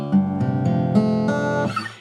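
A guitar tuned a full step down plays a short sequence of chords, each strum ringing clearly and up close for about two seconds before a brief scratchy rustle at the end.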